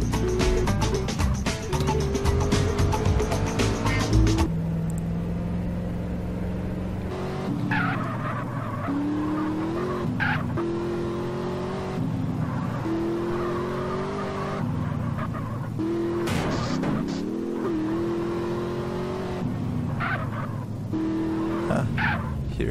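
Vehicle engine and skidding tires from a heroin truck driven in the video game GTA San Andreas, a steady revving motor with repeated tire squeals and shifting pitch over about twenty seconds, no talk.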